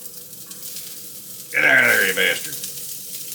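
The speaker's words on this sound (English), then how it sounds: "Ooh, that was much of a sizzle." Bacon and shallots hitting a hot pan, a loud sizzle that bursts in at mid-clip and crackles for about a second before easing to a quieter fry, with someone speaking just before.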